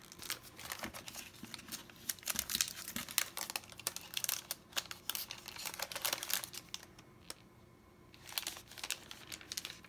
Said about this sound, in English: trying to open up our stickers here